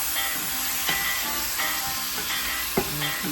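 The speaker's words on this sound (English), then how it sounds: "These are really big pieces, so we really have to let them brown." Large oxtail pieces browning in a hot pan, a steady sizzle and hiss broken by a few sharp spits and crackles, close and on its own.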